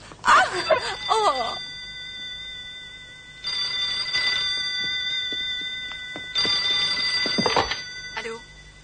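An old-style telephone bell rings in two long bursts separated by a pause, loud and close, with a voice briefly heard at the start before the ringing.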